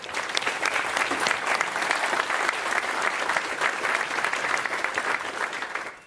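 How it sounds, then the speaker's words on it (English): Steady, dense applause from an audience at a Swiss AI event, continuous clapping for about six seconds and fading at the end. "let's give a big round of applause for everyone"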